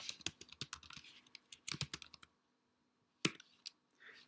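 Keys clatter on a computer keyboard as a command is typed, a quick run of close, crisp clicks, then a short silence and a few final taps.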